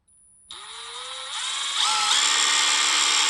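A cordless power drill starts as its trigger is squeezed, whining up from silence and climbing through higher speeds in steps, loud, close and steady with no speech.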